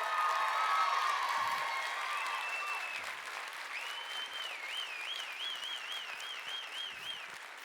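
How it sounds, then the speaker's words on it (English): Graduates and guests at a graduation celebration applaud in a dense, steady round of clapping with some cheering, while high whistles and warbling whoops ring out over the crowd. "We invite our graduates to join with us in a round of applause to acknowledge their support network of friends and families"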